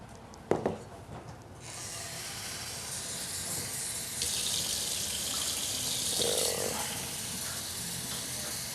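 Water being poured in while cooking, a steady soft hiss and splash running for several seconds after a brief knock, fairly faint.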